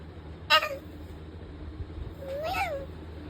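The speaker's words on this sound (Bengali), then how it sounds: "ম্যাও করো, ম্যাও করো। ম্যাও ম্যাও" A house cat gives two short, clear meows about two seconds apart, the second longer and rising then falling, close by over a quiet background hum.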